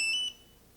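Bluetooth scale of a Vitamix Perfect Blend setup giving a short electronic beep, a brief bright tone lasting a fraction of a second before fading into quiet room sound.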